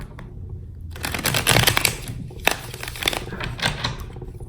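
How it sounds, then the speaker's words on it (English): A deck of tarot cards is shuffled by hand close up, with dense riffling and flapping bursts that come in waves for several seconds, fairly loud and without talk. "these cards don't want to be shuffled"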